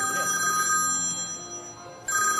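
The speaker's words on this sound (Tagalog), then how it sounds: "Nag-ring. Telepono." Telephone ringing loudly and close in a comedy stage skit, a bright electronic trill that pauses briefly and then resumes.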